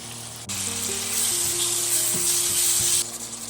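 Organic garden tomatoes dropped into a hot pan set off a loud, steady sizzle that swells after an initial clatter, with a few faint utensil knocks underneath and no voices.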